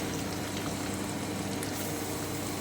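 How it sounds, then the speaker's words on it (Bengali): Chopped onion fries in hot oil left over from frying chicken, giving a steady, even sizzle at a moderate level with no voices. "এবারে আমি এই তেলেই কুচনো পেঁয়াজটা দিয়ে দিচ্ছি"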